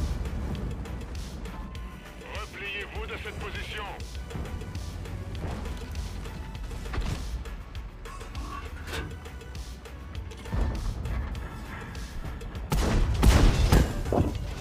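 Tank gun shots from a French Char Mle. 75 light tank in World of Tanks, heard as scattered booms and thuds over a busy battle din, building to a louder burst of firing at the end.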